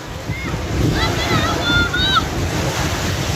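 Sea waves rush steadily onto the shore along a Saudi Arabian seafront near the Jordanian border, a loud continuous wash of surf and wind with a few thin high chirps above it.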